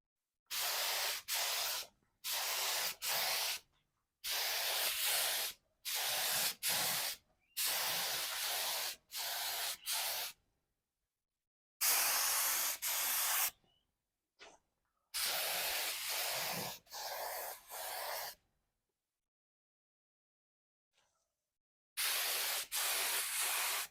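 Spray paint hisses in repeated bursts of one to three seconds, separated by short pauses, as coats are laid onto an automatic transmission; the sound is close and steady with no voices.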